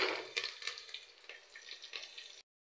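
Onions and spices sizzle and crackle in hot oil for rajma curry colour rice, a steady close frying hiss with bursts as they are stirred, then a sudden short knock at the very end.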